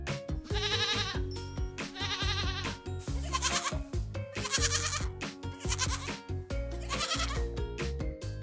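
A goat bleats loudly and close by, several wavering cries in a row with short pauses between them.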